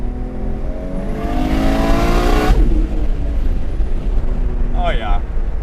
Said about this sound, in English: I'm not much of an open wastegate guy, but you can't argue with an unfiltered RB. That's rev limit.